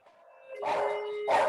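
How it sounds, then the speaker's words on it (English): Two short, loud dog barks close by, a second apart, after a faint tonal whine. "And I got dogs."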